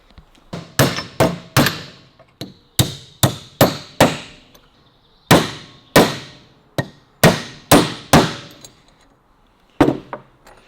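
Hammer blows on a sturdy punch driving a door hinge pin on a 1934 Austin 10: about twenty sharp, ringing metallic strikes in irregular bursts of two to four, close and loud, with brief pauses between groups.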